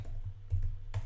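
Keys clack on a computer keyboard in a short burst of three or four distinct taps, close and fairly quiet against a low steady hum, with no voices.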